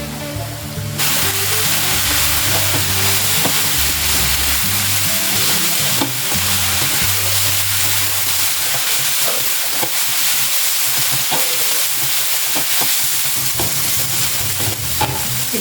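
Spring roll vegetable filling with coriander and mint frying in a pan, a loud, dense, steady sizzle with occasional stirring clicks and a low hum underneath.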